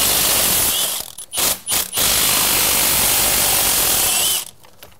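A ratchet wrench loosens 15 millimeter bolts on a Cummins 47RE/48RE transmission mount, giving loud, rapid clicking bursts that stop briefly a few times and then fall quiet near the end.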